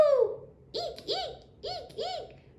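A person imitates an owl, sounding four soft rounded hoots in a steady rhythm after a brief higher squeal at the start.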